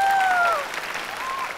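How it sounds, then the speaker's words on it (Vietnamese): Brief applause from a small group at a TV game show fades quickly, with a couple of whistles at the start and a quieter tail. "Mày đâu mà vỗ tay cái đi à"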